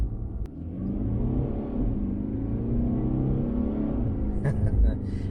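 Mercedes E Class with a dual-clutch gearbox pulls away at night, a steady low engine rumble and mild revving from inside the cabin, continuous and moderately loud with a brief sharper noise near the end.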